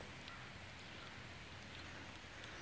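Rain falls outdoors at a rural log-cutting site, a faint, steady hiss of drops with no voices.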